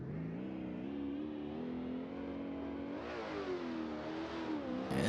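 A BMW E36 drift car's engine holds a high, strained rev during a drift qualifying run at Luddenham, then dips and climbs again, loud and continuous with no gaps.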